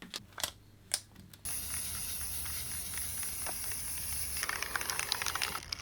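Spray paint hisses steadily and close for several seconds after a few light taps and clicks, with a sputtery burst near the end.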